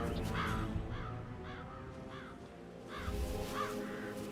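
Crows cawing in the Hitman: World of Assassination video game, a series of harsh repeated caws at a steady rhythm over a dense, constant background of game ambience.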